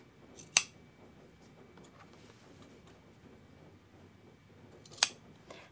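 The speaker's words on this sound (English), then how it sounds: "We're going to cut a little triangle off right before your stitching." Sharp scissors snip corners off a sewn fabric hand towel, two crisp single clicks about four seconds apart, close and distinct over a quiet room hum.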